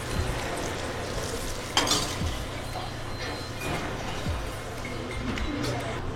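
Chicken stock reducing and sizzling in a pan with chicken: a steady, loud frying hiss that runs throughout, with an occasional clink of a utensil and a voice speaking faintly underneath.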